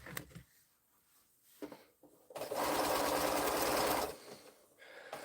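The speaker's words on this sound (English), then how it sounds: "we're going to go back to sewing it along here" A sewing machine stitches quilt seams in one steady, loud run of about two seconds mid-clip, with quieter handling noises before and after.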